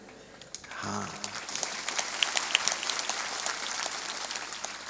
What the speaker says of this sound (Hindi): ये तो यहाँ ताली बजाने की हम ट्रेनिंग देते हैं, अब घर में स्टार्ट करना है।